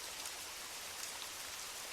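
Steady rain patters on old stone streets and buildings in Paris at evening, a dense, even hiss of drops on wet pavement throughout with no voices.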